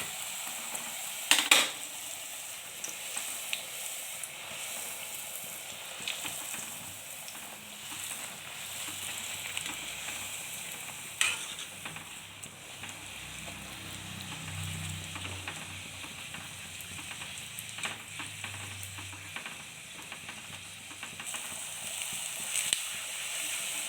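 Wheat flour puri deep-fry and puff in hot oil with a steady, soft sizzling and bubbling throughout, plus a few faint clinks of utensils.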